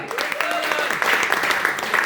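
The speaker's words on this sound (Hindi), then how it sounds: "तो ताली नहीं बजनी चाहिए क्या?" An audience claps at a team celebration event in India, with dense, steady clapping and voices mixed in beneath.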